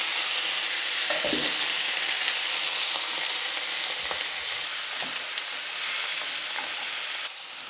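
Finely chopped carrots and beans sautéing in hot oil for sambar, a steady loud sizzle with occasional scrapes of stirring, no voices.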